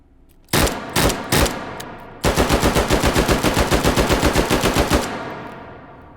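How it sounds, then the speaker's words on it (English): Mk 12 special purpose rifle fired in the H3VR video game: a few single loud shots, then a rapid hyperburst string of about eighteen sharp, evenly spaced cracks, close and clean. "Ah, I love that sound of that hyperburst."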